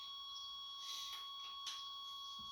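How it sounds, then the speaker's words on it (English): A Chevrolet Suburban's warning buzzer drones as a steady, faint electronic tone, with soft rustling and shuffling noises around it and no one speaking. "there's that annoying buzzer that my son just loves to hear"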